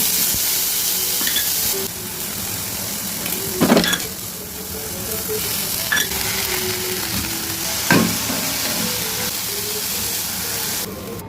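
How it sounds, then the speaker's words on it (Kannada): Peanuts, mint, tomato and chillies fry in oil in a pan for chutney, with a steady close sizzle and occasional stirring scrapes and clinks throughout. "ಆಮೇಲೆ ಅದೇ ಬಾಣಲೆಯಲ್ಲಿ 1 ಸ್ಪೂನ್ ಎಣ್ಣೆ ಹಾಕ್ಕೊಂಡು ಎಲ್ಲ ಐಟಮ್ಸ್ನ ಒಂದೊಂದೇ ಹಾಕ್ಕೊಂಡು ಫ್ರೈ ಮಾಡ್ಕೋಬೇಕು."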